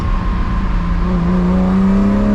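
BMW M1 engine revving on the road, at about 4000 rpm, a loud, close mechanical drone whose pitch climbs steadily as it pulls harder, heard from inside the car with no talking.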